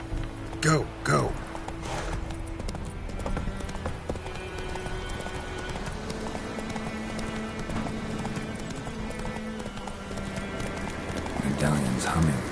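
Rhythmic clip-clop of horse hooves with occasional whinnies and metallic clinks, mixed with game music and voices talking over it, in The Witcher 3.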